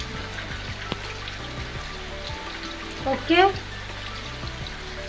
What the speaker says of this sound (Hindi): बाहर बहुत ही ज़्यादा बारिश लगी हुई है